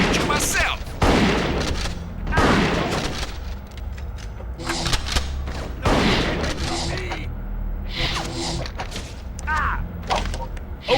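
Submachine gun fire in the PS2 game Bad Boys Miami Takedown, bursts of rapid shots and booming impacts in several clusters, mixed with voices talking between and over the gunfire.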